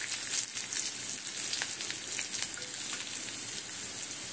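Curry leaves sizzle in a small amount of oil and butter in a pan, a steady bright crackling fry with scattered pops, close and unbroken, with no talking.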